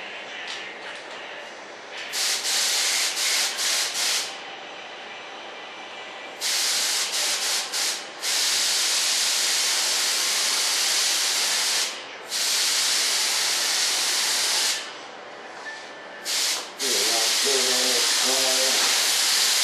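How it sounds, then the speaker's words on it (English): Primer is sprayed onto an RC jet model of an F-105 Thunderchief, with long, loud hissing bursts of the spray gun that start and stop repeatedly, and an air compressor nearby that rumbles on near the end. "You're right there by the compressor, so get ready for it to kick on."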